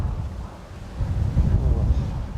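Wind buffets the microphone outdoors at an airport, a low rumbling roar that swells louder in the second half and stays steady with no other clear sounds.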